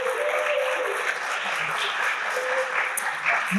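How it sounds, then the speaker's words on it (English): Audience at a 2023 Posse scholars graduation ceremony giving a sustained round of applause, thick and steady clapping with faint voices and cheers mixed in. "give them a round of applause for the efforts they've done."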